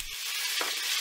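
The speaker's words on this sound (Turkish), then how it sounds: "Yağımız güzelce kızdıktan sonra içerisine kuşbaşı doğramış olduğumuz tavuk göğsü etimizi ilave ediyoruz" Oil hisses and sizzles steadily as diced chicken breast hits the hot pan, a continuous bright crackle without pause.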